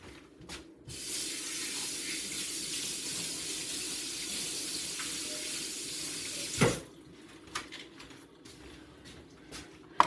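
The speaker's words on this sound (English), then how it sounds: "I'm gonna rinse these off." Tap water runs into a kitchen sink as celery stalks are rinsed, a steady close hiss lasting about six seconds before it stops, followed by a few light clunks.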